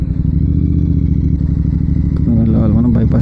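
A motorcycle rides along a road with a steady mid-pitched engine drone and some clatter, the engine note rising slightly near the end.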